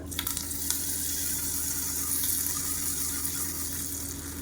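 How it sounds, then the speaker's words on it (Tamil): Hot tempering of mustard seeds, urad dal, dried red chilli and curry leaves is poured into chutney, giving a soft continuous sizzle and crackle at close range with no talking. "கடுகு உளுந்து வரமிளகா கருவேப்பில போட்டு தாளித்ததை கொட்டிடுறது"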